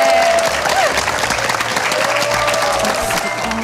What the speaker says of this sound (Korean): 이 용기를 내신 정아 씨에게 박수를 좀 보내죠